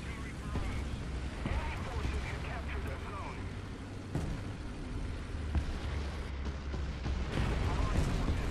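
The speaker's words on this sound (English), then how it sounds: "Getting artillery hits." Artillery shells strike a Type 74 tank in War Thunder, a series of dull booming impacts scattered over a rumbling engine bed while someone talks.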